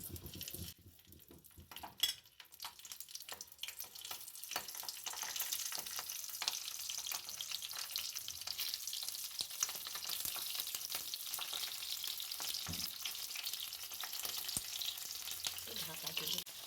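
Stuffed green chillies laid one by one into hot oil, a steady broad sizzle and frying crackle that builds and holds throughout, with faint clinks of utensils.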